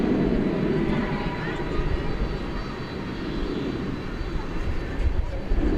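An Alaska Airlines Boeing 737-900 in oneworld livery at Dallas Fort Worth Airport gives off a steady, moderately distant jet engine drone, a voice talking over it throughout.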